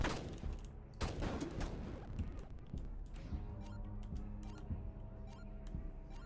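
Video game gunfire in a shooting sequence against people and a cop, with sharp bursts of shots near the start and scattered crackling fire running through the rest, mixed with game sounds and brief speech.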